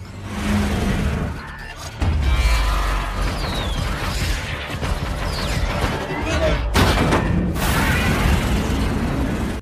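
Heavy booming blasts of cannon fire from warships mixed with rumbling engines and chaotic noise, loud and close.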